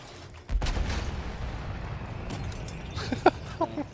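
Field gun artillery firing in the video game Battlefield 1 lets out a deep booming blast followed by a rolling rumble and a few sharper distant cracks, all heard close and loud.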